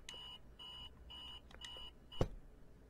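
Repeating electronic alarm clock beeps from the video game Virginia, a steady series of short high tones in bursts, followed by a sharp thump; no talking.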